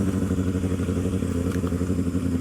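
A 2020 Kawasaki ZX6R KRT motorcycle engine idles steadily and loudly at close range outside a school, a dense continuous low rumble with slight rhythmic pulsing and no voices.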